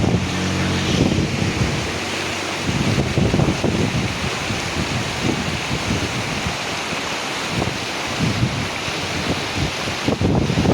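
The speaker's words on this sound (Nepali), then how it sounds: "यो खोलामा कति मजाले पानी बगिरहेको छ हेर्नु होला" Water rushes steadily along a stream in the open, a continuous broadband wash with wind buffeting the microphone throughout and no voices.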